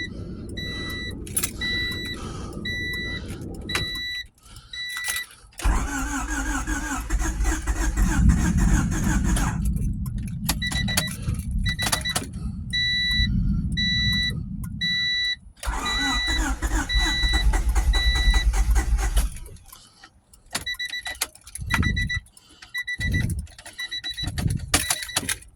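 A Honda D16Z6 engine in a 420hp+ build being cranked several times amid repeated electronic warning chimes, loud grinding bursts separated by pauses, until it finally catches and runs.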